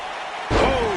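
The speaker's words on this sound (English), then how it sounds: "Oh, what a German suplex." In a WWE TLC 2020 match, a wrestler lands a German suplex with a sudden heavy slam onto the ring mat that booms out loud amid arena noise.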